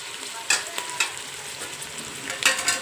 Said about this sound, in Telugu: ఇప్పుడు పారించుకొని తీసుకున్న కాకరకాయ ముక్కలు వేస్తున్నాను చూడండి